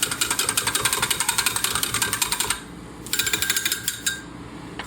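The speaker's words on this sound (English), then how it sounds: "Take a whisk. Whisk it around." Cumin is whisked in a bowl while making stuffed pork tenderloin, a fast, steady rhythmic clatter of metal wires against the bowl for about two and a half seconds, a brief pause, then more whisking, close and clear with no talk.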